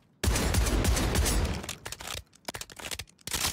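Rapid automatic fire from an assault rifle in the Warzone video game, a dense continuous burst of shots followed by shorter choppy bursts and a final stretch of fire, loud and close.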